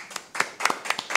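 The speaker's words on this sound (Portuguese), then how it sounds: "Salve, palmas." A few hands clap in short, uneven bursts during a podcast recording, close and fairly sharp, with brief gaps between the clusters of claps and no talking.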